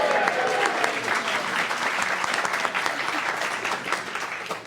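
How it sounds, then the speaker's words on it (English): A game-show studio audience cheers and claps in a steady, full roar, fading slightly toward the end. "Give us a cheer if you're happy"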